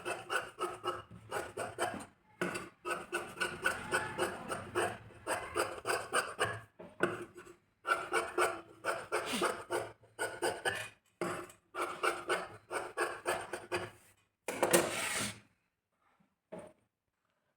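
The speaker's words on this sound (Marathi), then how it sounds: "जेही आपल्याकडे अस्तर उरलेलं आहे त्याच्यात मी ते पट्ट्या कापून घेणार" Scissors cutting strips from leftover lining fabric for blouse piping, a run of rhythmic rasping snips and rubs, close and fairly quiet, stopping near the end.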